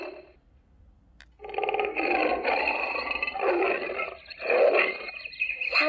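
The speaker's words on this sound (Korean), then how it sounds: "사자가 오흥," A lion roars from an animal sound book, a long, rough, loud roar swelling in several surges after a brief quiet start, with no talking.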